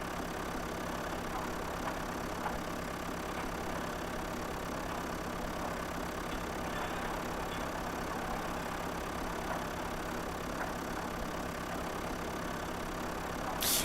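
Tractor engine in the Farming Simulator 2011 video game idles in a steady, continuous drone with a low mechanical rumble, holding an even level throughout with no talk.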